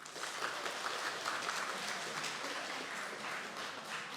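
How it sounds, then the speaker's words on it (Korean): A church congregation applauding during a sermon, a steady, moderately distant wash of many hands clapping, even in level throughout. "박수 한번 주시죠."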